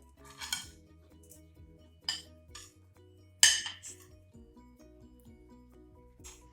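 Tomato and other ingredients being placed into a dish during no-fire cooking, with a few light clinks of cutlery and dishes spaced apart in an otherwise quiet room.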